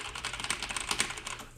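Fast, steady typing on a Logitech G PRO K/DA mechanical keyboard, with a continuous run of bright clacky keystrokes close up and no talking.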